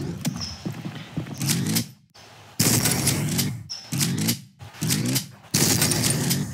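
Explosive gunfire from a gun in the video game Ultrakill, loud bursts of rapid shots in several volleys separated by short silent gaps.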